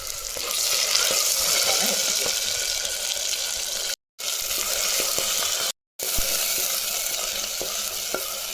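Ground masala paste fries in a pan for white chickpea curry, a loud continuous sizzle with scraping stirs, cut by two brief silent gaps, with no talking.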